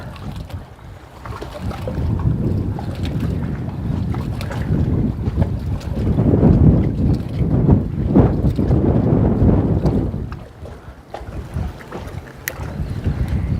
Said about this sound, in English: you can see how breezy it is, can't you?